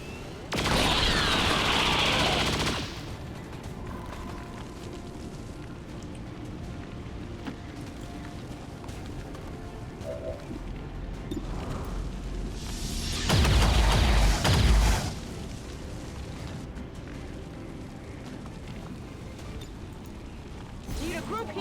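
Cannon saturation fire in the video game XCOM 2: War of the Chosen, a loud rumbling burst of blasts that comes twice, once at the start and again later, with quieter game ambience and talk in between.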